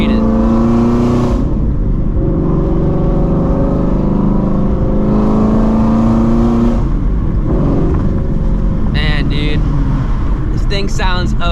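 A 2016-2018 Ford Shelby GT350 with its flat-plane V8 roars loudly and continuously, holding a steady rev before the tone shifts, with a voice briefly heard near the end.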